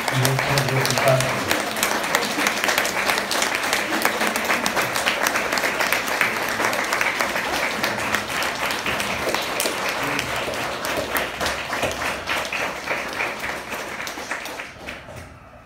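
A church congregation applauds steadily through a Spanish-language sermon, dense sustained clapping that fills the room and only fades near the end, with faint speech and music mixed underneath.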